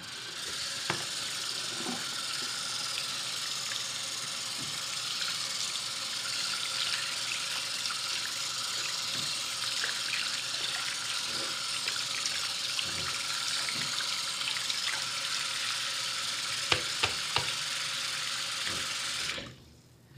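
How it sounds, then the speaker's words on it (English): Hot tap water runs steadily into a sink for about twenty seconds while paintball mask parts and a removed lens are rinsed, with scattered small clicks and knocks of handling before the flow stops abruptly. "Hot water again."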